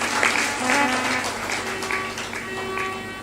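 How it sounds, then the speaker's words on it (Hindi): An audience claps in a brief burst of applause at a spiritual discourse, a moderate patter of hands that lasts about three seconds. "इनके लिए ताली बजा दो, खुश हो जाएंगे"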